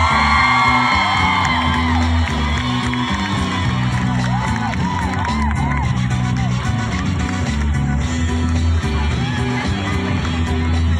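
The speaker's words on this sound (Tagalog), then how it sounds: "Salubungin po natin ang isang malakas na palakpakan ng hiyawan" A large crowd at a mayoral grand rally in Limay cheers, whoops and yells loudly and continuously, with layered voices and shouting throughout.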